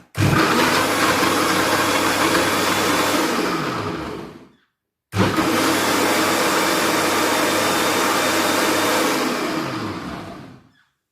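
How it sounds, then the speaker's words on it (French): A blender whirs loudly as it mixes a drink with added water, in two long continuous runs of about four seconds each, separated by a brief pause, with no talking. "Et puis, je vais mixer."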